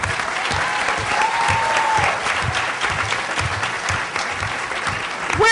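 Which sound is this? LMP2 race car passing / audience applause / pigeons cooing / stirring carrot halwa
audience applause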